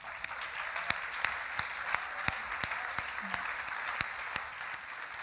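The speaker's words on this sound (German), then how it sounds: "Einen Applaus bitte." An audience claps steadily throughout at a youth politics event's closing presentation, a dense, even wash of applause with a few sharper individual claps standing out, heard from within the crowd.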